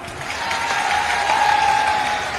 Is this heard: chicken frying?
no